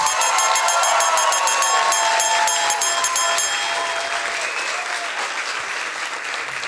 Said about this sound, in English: Big applause for Jun.